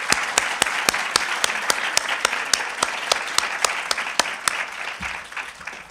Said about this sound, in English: I think we can give them a round of applause as well